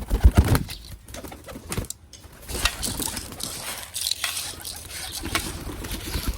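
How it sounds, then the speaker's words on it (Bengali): Pigeons flutter and shuffle nearby, with bursts of wing flapping and soft scattered pecking at grain, chickpeas and lentils against a noisy outdoor background. "পায়রা খাবারটা নিয়ে চলে এসেছে।"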